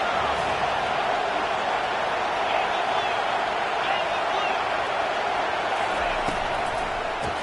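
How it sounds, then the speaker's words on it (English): Loud, steady roar of a football stadium crowd during a Michigan State vs Penn State game on third down, a dense wash of noise holding high throughout, with a commentator's voice over it. "Decibels rising as the crowd gets behind this defense on third down."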